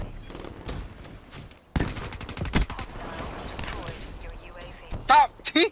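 Gunfire in the Black Ops 3 shooter game, bursts of rapid automatic shots and sharp single reports spread through the clip, loud and close, with a few louder cracks near the end.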